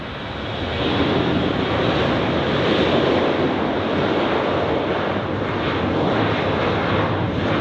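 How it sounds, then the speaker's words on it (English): An Embraer jet taxis or departs at Zurich Airport, its engine producing a loud, steady broadband roar that swells in over the first second and then holds evenly throughout. "Probably was the Embraer which we saw taxiing out before"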